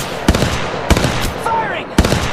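Gunfire in the Apex Legends Mobile video game, with three sharp single shots spaced about a second apart and a brief voice between them.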